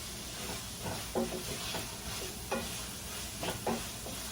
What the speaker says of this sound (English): I'm gonna let these beans cook for a minute.